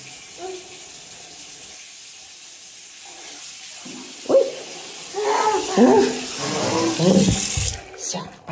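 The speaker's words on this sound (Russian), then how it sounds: "Выключай воду." Water running from a household tap, a steady hiss through most of the stretch, with a young child and an adult talking over it toward the end.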